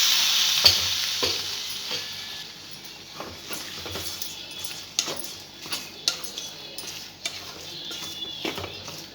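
Coconut paste is stirred into simmering soya gravy in a cooking pan. Close, repeated spoon scrapes and knocks ride over a soft, steady sizzle.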